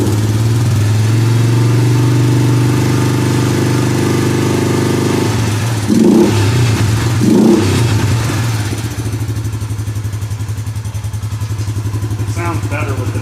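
A Suzuki Vinson 500 ATV engine runs steadily after an oil change, a loud, continuous mid-pitched idle that rises briefly in two short revs before settling back to a steady drone.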